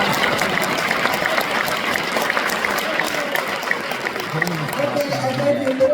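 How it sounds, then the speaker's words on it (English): A crowd at a housing activist gathering gives a speaker another round of applause, dense even clapping with a murmur of voices and some talk rising near the end. "Give him another round of applause."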